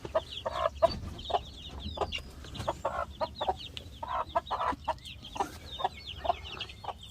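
A backyard hen with her young chicks clucking and cheeping nearby, a steady run of short soft clucks and high peeps overlapping throughout, fairly close and moderate in level.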